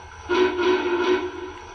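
An MTH model Union Pacific Big Boy steam locomotive whistle sounds the reverse signal: three quick, close toots in a row, bright and steady, with no talking.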